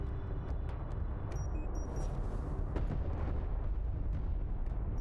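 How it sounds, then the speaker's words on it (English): A turret post blows up in the sci-fi strategy game Homeworld: Deserts of Kharak, giving a deep, continuous rumbling blast with scattered sharp crackles layered over the roar. "That's the explosion."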